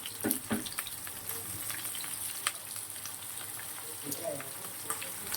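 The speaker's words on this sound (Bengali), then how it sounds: "ফুলকপিটাও তুলে নেব ভেজে হালকা।" Lightly boiled cauliflower pieces fry in a pan with a soft, steady sizzle, faint and fairly distant, with a few scattered clicks and light stirring sounds.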